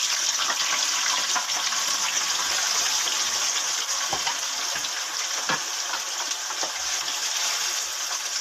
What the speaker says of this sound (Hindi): इसमें हम चिकन शामिल कर देंगे।